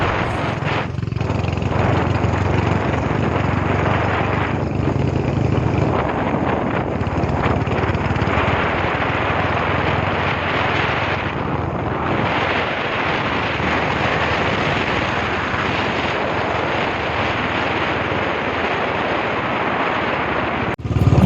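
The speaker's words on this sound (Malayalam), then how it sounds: "കാറ്റടി കൊണ്ട് എൻ്റെയും കൂടെ ചെവി അടിച്ചു പോയി കേട്ടോ അത്രയ്ക്ക് ഭയങ്കര കാറ്റ്" Strong wind roars and buffets the microphone without a break while riding a Bullet motorcycle in the Uttarakhand mountains, with a low rumble underneath from start to finish.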